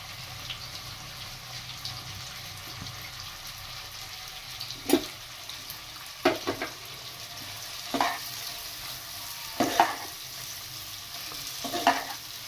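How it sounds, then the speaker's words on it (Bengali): Sliced onions, three medium ones, fry in oil with cardamom while being stirred, giving a steady low sizzle. Scraping strokes cut through it several times, and there is no talking. "তারপর তেলের মধ্যে দিয়ে দেব আমি স্লাইস করা পেঁয়াজ।"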